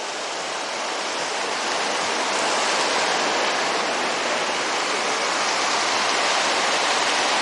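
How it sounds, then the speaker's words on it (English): A creek flowing from Long Lake, running high, rushes in a constant, dense hiss, close and steady with no breaks, like a fast creek tumbling over rocks. "this creek here comes from the cottage, from Long Lake"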